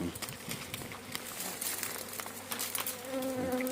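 Honeybees buzzing around a small frame at a hive, a dense, steady insect drone with crinkly rustling and brief louder passes close by.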